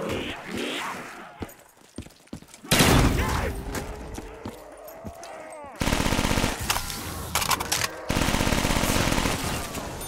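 Automatic gunfire in Call of Duty Black Ops 3 zombies on a custom map: dense bursts of rapid shots, loud and close, broken by short pauses and chaotic game noise, with voices talking over parts of it.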